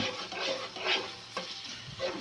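Onions frying and being stirred in a pan while lightly browning, soft sizzling with swishing scrapes of stirring in uneven bursts, close and fairly quiet.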